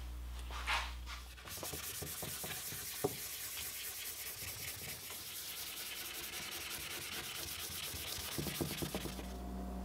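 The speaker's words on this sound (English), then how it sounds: "Back to the sandpaper." Sandpaper rubs back and forth over a cracked axe head in quick, scratchy strokes, a steady close rasping that continues almost the whole time after a brief quieter start, with no voices.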